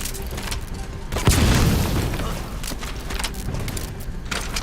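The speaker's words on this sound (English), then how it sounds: "There was an explosion." A deep booming explosion from the stealth action game Metal Gear Solid V, erupting suddenly after quieter game ambience and rumbling off over a couple of seconds, with further scattered game sounds afterward.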